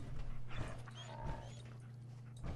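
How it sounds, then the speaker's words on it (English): Dog sounds from the video game Fallout 4, a few short whimpering yips over a steady low game hum, moderately close and fairly quiet. "Dog."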